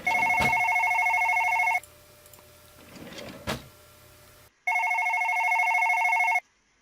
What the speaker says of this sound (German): Dieses blöde Telefon.